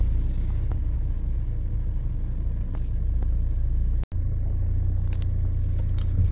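A car rolls into a busy store parking lot beside an Eid prayer ground, its engine a steady low rumble up close, with a brief dropout midway.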